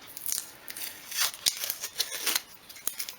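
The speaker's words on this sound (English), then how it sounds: "Just got a nice piece of fine grade sandpaper, probably about a 180, smooth off the edges." Fine-grade sandpaper, around 180 grit, smoothing the cut edges of a 1/12 scale model shop piece, brisk close rubbing strokes in quick uneven bursts with no talking.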